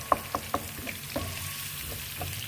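Onions fry in a pan for a chapati and bean curry, giving a faint, steady sizzle with a few soft taps and clicks near the start, quiet and close, with no talking.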